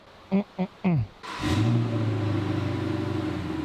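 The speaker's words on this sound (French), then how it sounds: "c'est le moment pour démarrer la Camaro" A Chevrolet Camaro V8 cranks and fires up after a few short voice bursts, then settles into a loud, deep, rumbling idle with a rev flare right after startup, close and continuous.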